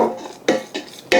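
Spoon scraping and clinking against a pot as kidney beans are stirred into rice cooked in stock, a few short knocks separated by brief pauses.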